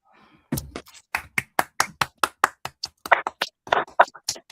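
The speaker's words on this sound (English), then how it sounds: "give a round of applause" A small group claps on a morning show, with separate sharp, close hand claps arriving in a quick, fairly regular rhythm. A brief faint murmur comes before it, and no one talks over the clapping.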